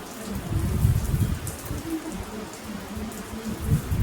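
Heavy rain pours steadily during an outdoor Hindu homa and vrata puja, a dense continuous patter with low rumbling drops filling all four seconds, no voices heard.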